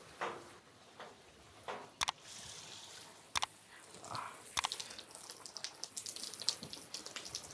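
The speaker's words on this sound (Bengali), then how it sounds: "পানির ছিটা পড়তেছে" Water splashes and drips in the bathroom of a luxury hillside tent house near Chiang Mai, Thailand: scattered sharp drips and splatters over a steady airy hiss, moderately close and fairly quiet.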